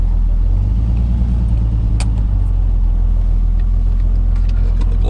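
A 1968 Triumph TR250 engine idles on choke, a steady loud low rumble with an even throb that holds throughout, no voices over it.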